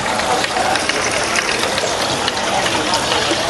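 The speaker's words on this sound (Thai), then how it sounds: "น้ำพุ" A fountain at Thonburi market (Sanam Luang 2) in Bangkok sends out a steady, loud rush of splashing water that holds evenly from start to finish.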